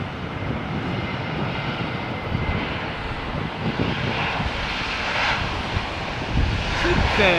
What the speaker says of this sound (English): these Lufthansa services are one of the most frequent flights into and out of Heathrow